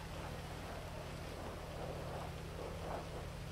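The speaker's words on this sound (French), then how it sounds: "Putain, il pleut!" Faint, steady rain in a roleplay video game hisses softly over a low, constant hum, with no voices.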